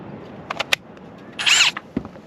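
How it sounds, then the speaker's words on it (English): A power drill fitted with a bit gives a short, loud whirring burst as it enlarges a hole, with a few sharp clicks and taps around it and no talking. "So I have a drill bit, and I'm gonna drill through and"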